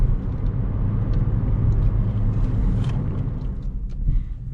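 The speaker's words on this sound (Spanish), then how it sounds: "Vamos a ver qué tal ruge el motor de Rocky." The engine of a car called Rocky, fitted with a K&N filter, rumbles low and steady from inside the cabin on a downhill mountain road near La Calera, with faint road noise and small clicks over it.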